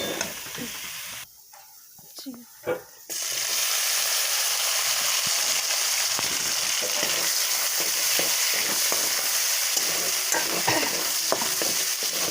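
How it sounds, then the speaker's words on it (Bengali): Already-fried prawns going back into hot oil in a pan, a loud continuous sizzle that drops away briefly, then surges back and holds steady with soft stirring clicks. "আগে যে চিংড়ি মাছগুলো আনা ছিল ভাজাই ছিল, তো আর একবার ভেজে নিচ্ছি"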